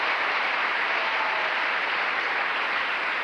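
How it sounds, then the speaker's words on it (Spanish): Steady, dense applause from a church congregation praising God during a sermon, a continuous wash of clapping that holds at an even level with no talk over it. "Le damos un aplauso al Señor."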